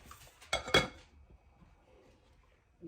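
Metal pot for chicken and dumplings being stirred, then its lid clanking back on, two short bright clinks close by, followed by quiet kitchen room tone.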